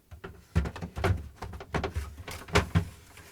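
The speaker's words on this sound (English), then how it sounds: "Now the crisper drawer cover goes in." A Samsung refrigerator's plastic crisper drawer cover sliding into place on its rails, giving a series of close, irregular scraping clicks and knocks with no speech.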